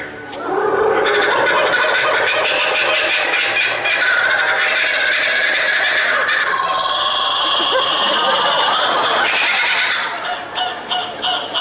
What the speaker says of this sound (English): they call it laughing kookaburra